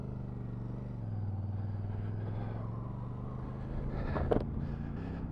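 A 2023 Royal Enfield Super Meteor 650 cruiser under way: a steady, low twin-cylinder engine drone heard from the saddle, fairly quiet, with a short burst of wind or rattle near the end.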